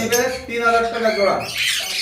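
Mutation lovebirds at a Bangladeshi bird farm give sharp, loud squawks close by, mixed with a person talking.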